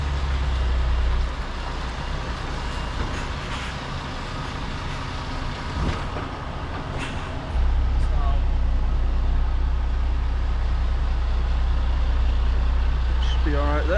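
A lorry turning around in a dead-end road: a heavy, continuous low diesel rumble close by that swells louder partway through and holds steady to the end.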